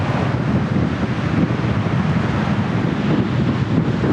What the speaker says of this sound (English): It is nuts, it is so windy.